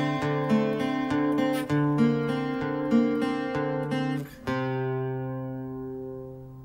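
A plucked acoustic guitar phrase, clear and close, with steady picked notes that stop short and leave the last chord ringing out.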